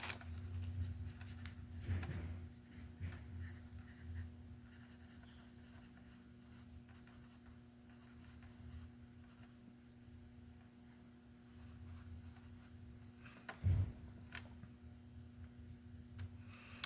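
Writing on a board, with soft, faint scratching strokes under a low steady hum and a couple of louder knocks, close and quiet without talk.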